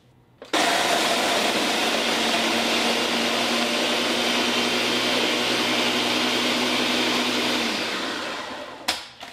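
Cheesecake crust crumbs mixed with lemon zest and coarse salt in a food processor, a loud steady whirring motor running for about eight seconds before winding down and stopping.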